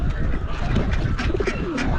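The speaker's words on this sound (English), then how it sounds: "Look at the pigeons I bought." Several pigeons, fancy homing birds at an auction, coo in soft low murmurs that overlap continuously, with a dense backdrop of other birds and crowd noise close by.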